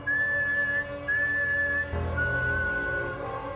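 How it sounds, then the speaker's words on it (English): Three long, steady whistled tones, one after another with brief pauses, over a droning musical background; the last whistle is slightly lower. "3 long whistles, then silence."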